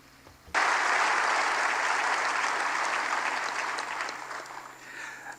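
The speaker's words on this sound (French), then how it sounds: "Des applaudissements, s'il vous plaît." Applause erupts suddenly at an inauguration ceremony for a new development bank president, a dense, sustained clapping from a large audience that gradually thins and fades over several seconds.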